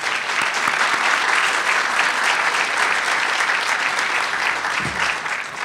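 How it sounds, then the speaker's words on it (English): A large conference audience at an opening keynote gives a loud, sustained round of applause, dense and continuous from many hands with a low thump near the end. "Please give them all a round of applause during the course of the day."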